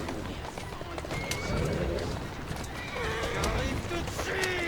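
Horse whinnying several times while hooves clip-clop at a run, with someone speaking encouragingly over the top, close and fairly loud.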